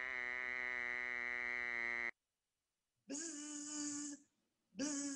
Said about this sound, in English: That's the Western narrow-mouthed frog.